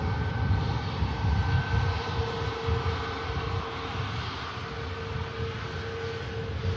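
An EasyJet airliner at Manchester Airport departs for Amsterdam, its jet engines giving a sustained, fairly loud roar with a steady whining tone running through it throughout.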